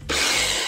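A Ninja Ultra Prep chopper is pumped once to chop an onion, making a single short, rough, grinding whoosh close by.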